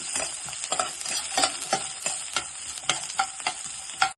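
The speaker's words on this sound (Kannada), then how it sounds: "ಬೆಳ್ಳುಳ್ಳಿ, ಶುಂಠಿ, ಈರುಳ್ಳಿ, ಹಾಕ್ಕೊಂಡು ಫ್ರೈ ಮಾಡ್ಕೊಳ್ಳೋಣ." Garlic, ginger and onion fry in a pan for a Kerala-style dish, a steady sizzle broken by repeated scraping stirs in an uneven rhythm, close and fairly loud with no voices.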